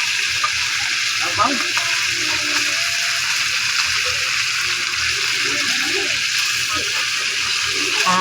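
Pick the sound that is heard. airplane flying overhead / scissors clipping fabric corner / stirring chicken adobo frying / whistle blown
stirring chicken adobo frying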